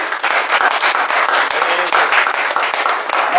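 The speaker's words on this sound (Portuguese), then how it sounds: "Glória a Deus, aplausos a Ele." A church congregation bursts into loud, dense applause right after a closing prayer, with many hands clapping close together in a steady wash that barely dips for three seconds.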